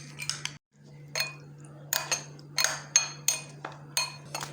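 A spoon clinks and scrapes against a bowl while mixing colored tutti frutti pieces in syrup, in repeated short bursts over a steady low hum, close by with no talking.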